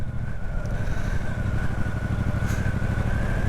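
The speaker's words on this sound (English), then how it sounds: "Nice little Royal Enfield Interceptor there." A Royal Enfield Interceptor motorcycle engine rumbles steadily close by, a constant low throbbing drone with no talking.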